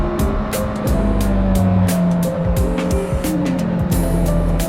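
A Honda CB1000R Black Edition motorcycle engine and exhaust runs loud and steady on a quiet road, its tone shifting up and down with throttle changes and a few sharp rising and falling sweeps throughout.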